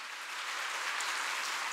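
A church congregation applauding during a special early-morning prayer service, a soft, even wash of many hands clapping at a distance, sustained without breaks.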